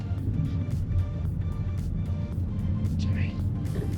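Cabin of an Xpeng P7 Performance electric car while driving, a steady low road rumble with faint tire and wind noise and no engine sound, quiet and continuous throughout.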